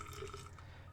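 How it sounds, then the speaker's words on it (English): Boiling water is poured into a tall glass jar to cover a die-cast Matchbox Ford Corsair for stripping; a faint, soft trickle and splash, close but very quiet. "Start off by covering it with some boiling water in my foot-long hot dog jar"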